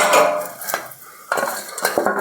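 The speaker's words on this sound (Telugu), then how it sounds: "మనం కట్ చేసి పెట్టుకున్న అల్లం, పచ్చిమిర్చి, ఉల్లిపాయ ముక్కలను దీంట్లో వేసి ఇట్లా కలుపుకోవాలండి" A spoon scrapes and clinks inside a bowl while chopped onion, green chilli and ginger are mixed in. The strokes come in short bursts with brief pauses between them, close and crisp, with no talk.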